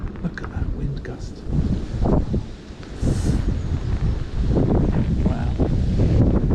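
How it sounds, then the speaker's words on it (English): Gusty wind on a River Thames bank during a fishing match buffets the microphone in loud, rumbling bursts that swell and ease, with low booming blasts throughout. "Look at that wind gust."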